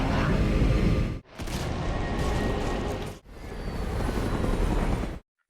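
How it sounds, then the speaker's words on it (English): In a film scene, a helicopter is violently shaken by the shockwave of a nuclear explosion: a loud, roaring rumble broken into three surges by two sharp, near-silent cuts, ending abruptly. "The explosion's shockwave violently shakes the helicopter."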